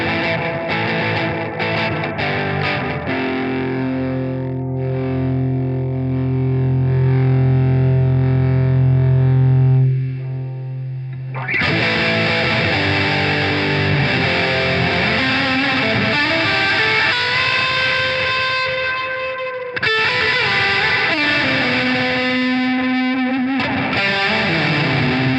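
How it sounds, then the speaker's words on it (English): Fuzzed-up reverb from a Dr. Scientist Bitquest effects pedal: distorted, gritty sustained tones swell into long washy tails. Sustained notes shift in pitch, with a brief dip near the middle and no voices. "Up next is the fuzzed up reverb."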